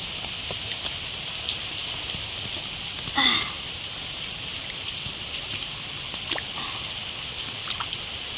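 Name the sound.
rain falling on rooftop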